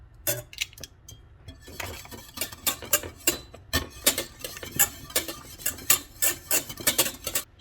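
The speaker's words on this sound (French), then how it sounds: "Ici, je mélange jusqu'à avoir une texture comme la crème épaisse." A utensil stirs hollandaise sauce of butter, egg yolks and lemon in a pan over medium heat, making a steady run of quick, rhythmic metallic clicks and scrapes close up.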